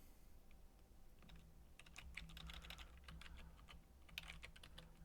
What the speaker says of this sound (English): Say, Corey, I thought you could touch type.